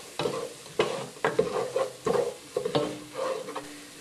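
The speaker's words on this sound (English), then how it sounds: "Get them a quick stir." Thyme and parsley are stirred into a pot with softened onion, giving several quick scraping strokes of a utensil over a low sizzle in close, rhythmic bursts.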